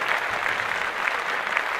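Brief burst of applause from a podcast studio audience, a steady dense clapping that holds at even loudness throughout.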